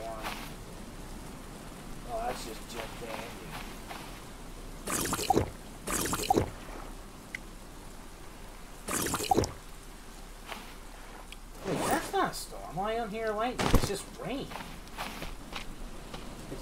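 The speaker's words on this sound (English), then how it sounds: "Okay, storm's coming." Steady patter of video game rain from the game Stranded Deep runs throughout, with bursts of louder noise and footstep-like thuds breaking in, while a voice speaks intermittently over it.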